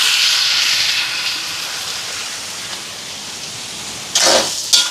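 A large pot of water boiling hard in an outdoor almsgiving kitchen in Jaffna, giving a steady loud steaming hiss throughout, with two brief sharper bursts of hiss near the end.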